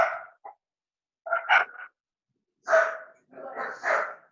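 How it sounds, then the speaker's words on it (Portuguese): Several sharp dog barks come from outside, spaced in bursts at moderate distance, with short silent gaps between them. "É um cachorro fora."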